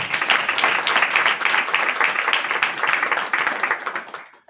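A crowd claps in sustained, even applause that stays dense and loud, then fades out quickly at the end.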